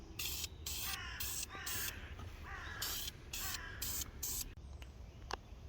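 Primer sprays from an aerosol can onto parts for a Volvo 164 restoration in about eight short, sharp hissing bursts with brief gaps between them, close and fairly loud.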